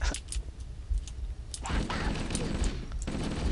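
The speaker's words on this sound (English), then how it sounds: "Stop shooting me in the face with the overcharged pistols, please." Overcharged plasma pistols in Halo fire repeated sharp, crackling energy shots at close range, clustering in bursts amid other game noise, with someone talking in between.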